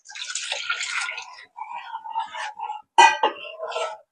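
Tamarind water pours into a simmering village-style fish curry in a short splashing run, followed by quieter liquid sounds and a soft voice speaking nearby.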